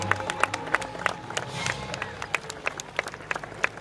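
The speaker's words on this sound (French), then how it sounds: "Allez, applaudissements pour notre équipe de Jurassic Park." Outdoor crowd applauding a Jurassic Park film car team at a movie car parade in Saint-Dizier, steady scattered clapping with crowd noise and voices throughout.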